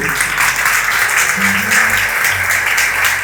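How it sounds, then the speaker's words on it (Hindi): A congregation at a Pentecost sermon breaks into loud, sustained clapping that fills the space evenly, with a low voice or tone murmuring faintly beneath the applause. "जोरदार तालियां अपने खुदा के लिए।"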